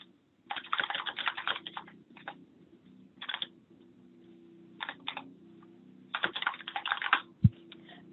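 Keystrokes clatter on a computer keyboard as a lesson description is typed, arriving in uneven bursts with short gaps, close and moderately soft, ending with a single sharp tap and no talking.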